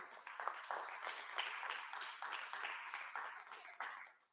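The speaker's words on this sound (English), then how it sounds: "Clap for Orkoku" Audience at a Ghana Independence Day teaching artist event applauding, a quiet, fairly distant patter of hand claps in uneven bursts that tapers off at the end.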